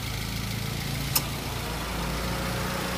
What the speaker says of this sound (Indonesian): Mesinnya halus.